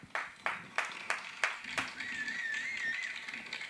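A lone person claps steadily in a room, about six sharp, evenly spaced claps over the first two seconds, moderately close, followed by a quieter background hum with a faint tonal whine.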